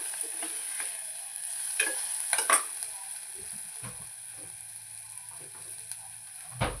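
Turmeric and spices sizzle in a hot pan for a sprouted-bean sambar, a soft steady frying hiss broken by occasional stirring scrapes and clinks of a utensil against the pan, close and moderately quiet.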